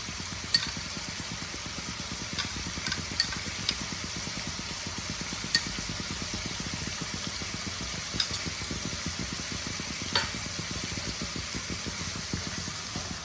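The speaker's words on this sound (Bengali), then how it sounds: "সব একসাথে ভালো করে কষাবো।" Spices stir-fried in a pan with a paste of poppy seeds and dried red chilli for an egg masala curry, a steady close sizzle marked by regular scraping strokes and occasional clicks of the spoon.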